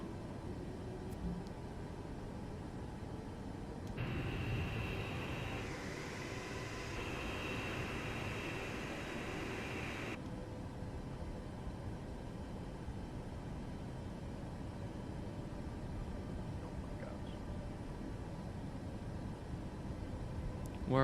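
Alaska Airlines Boeing 737 MAX taxiing to a terminal gate in Microsoft Flight Simulator 2024: a steady, even engine rumble and whine that rises briefly in the middle, then continues at a constant level throughout.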